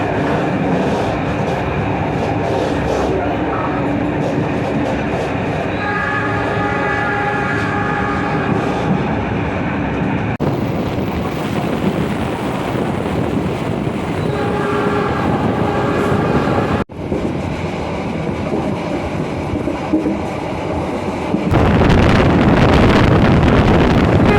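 A modified Jayabaya passenger train in Indonesia rumbles along the rails for a long stretch, with wheel clatter, tonal horn-like blasts, and a louder roar toward the end.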